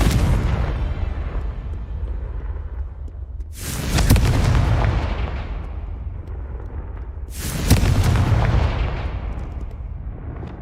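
Confringo fire spells exploding in the Hogwarts Legacy video game: two loud booming blasts a few seconds apart, each with a sharp crack and a long rumbling decay over a constant background roar, with no talking.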